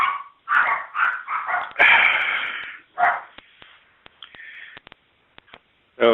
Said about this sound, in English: So now my dogs are barking in the background.